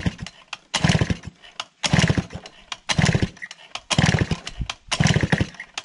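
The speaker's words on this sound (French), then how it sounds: "l'essence arrive. Donc potentiellement, qui pourra démarrer." A Gilera Stalker scooter, long out of use, engine sputters in repeated short revving bursts as it starts and catches, each burst loud and close with brief gaps between.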